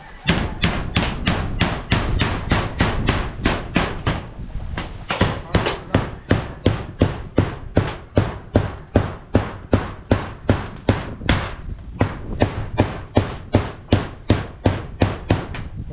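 A hammer strikes repeatedly in a steady rhythm of sharp, loud, close blows, about two per second, with a brief pause around four seconds in.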